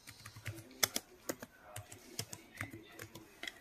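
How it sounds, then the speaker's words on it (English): Someone types on a computer keyboard while writing a Python program, sharp irregular key clicks tapping out in quick close bursts, mostly on their own with brief gaps. "in the parenthesis I am typing inverted commas"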